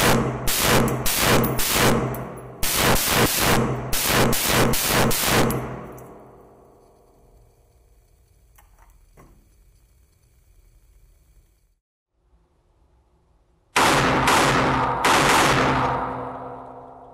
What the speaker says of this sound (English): It would be awesome if we could go to the range and fire it.